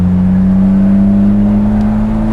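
A 1953 Jaguar XK120 fixed-head coupé with EFI, a Tremec 5-speed and a polished stainless steel exhaust hums in a loud, steady low drone with strong harmonic engine tones. Nobody speaks over it.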